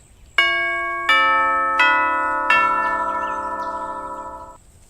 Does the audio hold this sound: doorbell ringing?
yes